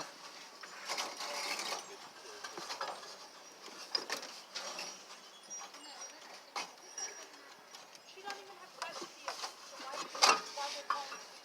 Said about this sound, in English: Now let's flip this thing over the fan